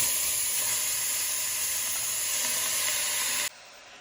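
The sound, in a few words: onions frying in a pan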